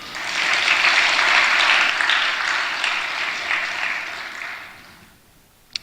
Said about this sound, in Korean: 나올 줄로 믿는 사람은 박수 한번 쳐봐요.